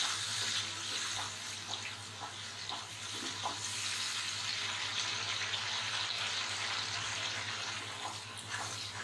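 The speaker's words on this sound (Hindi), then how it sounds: "अब हमें मसाले को बहुत अच्छी तरह भूनना है" Masala is roasted in a pan on a high flame for Punjabi-style dal makhani, making a steady, fairly quiet hissing sizzle with a few small ticks and pops scattered through it.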